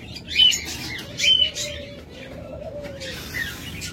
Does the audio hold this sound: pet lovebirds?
yes